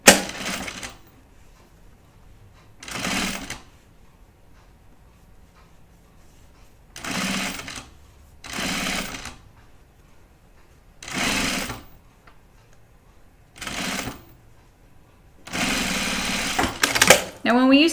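Sewing machine stitching a fabric casing in short repeated bursts of whirring separated by quiet pauses, with a person talking between runs.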